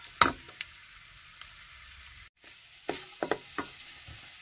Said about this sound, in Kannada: ನೋಡಿ ಇವಾಗ ಇದು ಒಗ್ಗರಣೆ ಆಗಿದೆ.